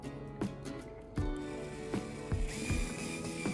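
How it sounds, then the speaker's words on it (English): Hand ratchet tightening bolts on a Honda Element body panel: quiet bursts of clicking pawl strokes, several short runs in a close, fairly quiet space. "I am bolting back the area that the flap that I disassembled"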